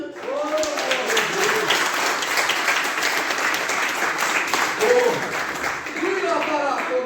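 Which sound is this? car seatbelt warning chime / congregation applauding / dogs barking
congregation applauding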